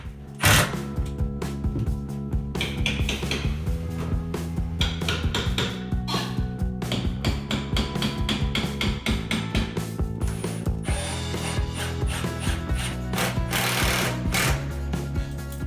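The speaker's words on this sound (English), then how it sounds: "attach the cabinets to the wall with a few 3-inch long deck screws" A power driver sinks 3-inch deck screws to fix pantry cabinets to a wall, making loud buzzing, ratcheting bursts that repeat in several runs with short gaps between them.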